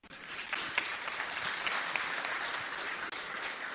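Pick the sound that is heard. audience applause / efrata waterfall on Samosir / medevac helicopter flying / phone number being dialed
audience applause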